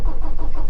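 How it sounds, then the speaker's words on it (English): A flatbed truck engine cranking without firing, a brief loud burst of rhythmic starter churning that never catches, heard close and alone. "So you can hear it trying to start, and it really sounds like it's starving for fuel"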